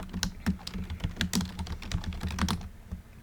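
Rapid, irregular typing on a computer keyboard while formatting an essay title in Word, close and clear, with crisp clicks in quick bursts that stop near the end.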